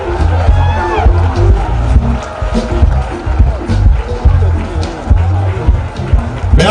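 A large crowd at an anniversary celebration cheers and shouts in a loud, continuous roar, with raised voices and whoops mixed throughout.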